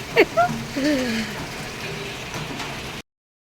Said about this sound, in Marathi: पावसाला काय झालंय कसला पाऊस पडतोय बापरे